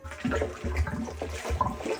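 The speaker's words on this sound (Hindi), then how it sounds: "एक टंकी पानी तो भर गया, अब भर रहे हैं दूसरी टंकी।" Water pours into a storage tank at a hillside home, a gushing, splashing rush with several uneven surges and gurgles, close and fairly loud, with no speech.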